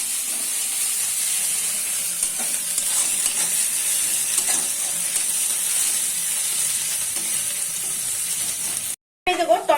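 Onions sizzle and fry in a pan for a Bengali young-goat mutton curry, with a steady close hiss and occasional stirring scrapes running continuously until a brief dropout near the end.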